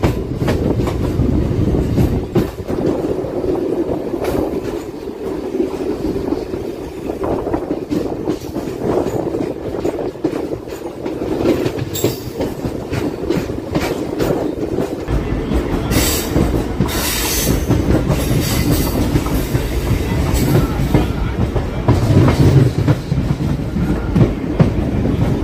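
A passenger train runs on rails near Gundlakamma, heading for Chirala-area stops, with a loud steady rumble, rhythmic clickety-clack and stretches of high wheel squeal later on.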